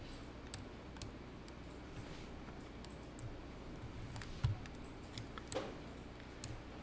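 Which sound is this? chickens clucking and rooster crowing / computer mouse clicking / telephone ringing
computer mouse clicking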